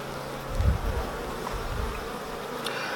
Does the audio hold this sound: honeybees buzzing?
yes